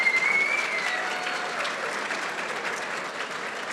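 A conference crowd at a banking technology event claps and cheers, broad steady applause with a whistle near the start, continuing evenly throughout.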